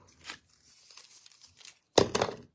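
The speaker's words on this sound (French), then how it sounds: "J'enlève mes petits pellicules de mes dimensionnels" Protective film is peeled off small adhesive foam dimensionals for a craft project, giving faint papery crinkles and a louder, close tearing rustle near the end, with no talk.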